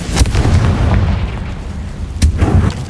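Confringo fire spell explosions in the Hogwarts Legacy video game, two loud booming blasts about two seconds apart, each with a rumbling low tail, with no talk.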